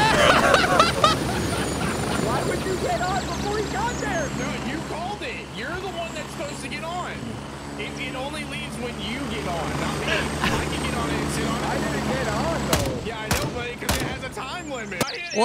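Helicopter in the video game Gray Zone Warfare: a steady, close rotor and engine drone runs under the whole scene, with a few sharp cracks near the end. People talk over it throughout.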